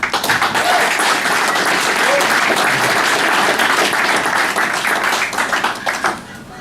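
An audience at a lunch event gives President Liaquat Govani a big round of applause, loud and sustained clapping from many people that fades out near the end.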